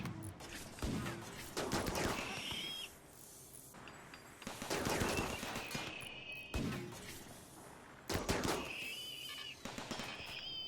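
Turrets in Rimworld opening fire on raiders at an ice sheet colony, three dense bursts of rapid game gunfire and impacts, separated by short quieter gaps.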